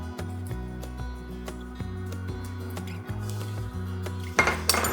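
Whole spices for corned beef being crushed produce close, sharp knocks and clinks at an uneven pace. A denser burst of clatter comes near the end, and no one speaks.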